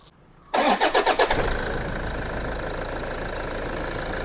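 A Toyota car engine cranks for about a second with rapid starter pulses, then catches and settles into a steady, fairly loud idle at close range.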